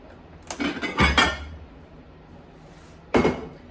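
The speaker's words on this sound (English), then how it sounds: "I think I'm gonna use one of my Corningware dishes." A Corningware baking dish clinks and knocks against the counter in a kitchen, with a few sharp handling clatters close by and a short pause before one last knock.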